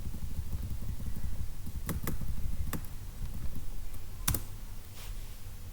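Keystrokes on a computer keyboard while typing a Linux group-management command, a few sharp isolated clicks over a steady low hum, ending with an Enter press.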